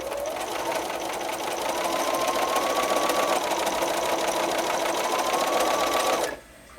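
A sewing machine stitches quilt squares together with a 1/4 inch seam, a fast, even mechanical whir running close and steady for several seconds before stopping abruptly.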